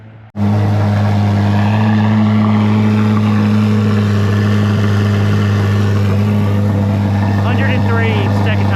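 A Chevrolet C8 Corvette Z06 with the catalytic converters deleted, its exhaust bursting to a loud, steady high-rev roar that holds strong and close after a brief quiet start.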